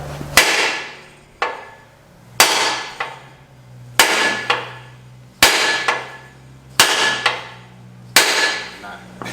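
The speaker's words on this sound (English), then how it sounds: "you get the ball side of the hammer and you hit it as hard as you can dead center" Ball-peen hammer blows hammering a front suspension bush out of a Toyota Prado 150: six loud, sharp metallic strikes at roughly even intervals, each ringing briefly before decaying.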